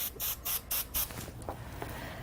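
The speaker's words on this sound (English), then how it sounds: "So I have my spray here as well." Adhesive spray can used for tie-dye sublimation, four short sharp hissing bursts in quick rhythm, close and loud, followed by quieter rustling.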